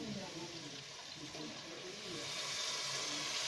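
A small amount of potato cooking water is poured into masala sizzling in a pan while making aloo methi, giving a steady hissing, bubbling splash that runs throughout under a faint voice.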